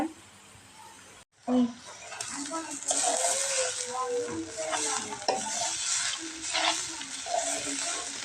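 Grated carrot and beetroot fry and sizzle in a pan while being stirred, steady hiss with scraping stir strokes and light clinks, moderately quiet, with a voice speaking over parts of it.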